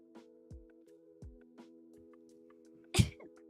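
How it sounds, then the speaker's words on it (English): One sharp, loud human sneeze bursts out near the end, after faint clicks and a low electrical hum in a quiet room. "ooh, wait, I have to sneeze."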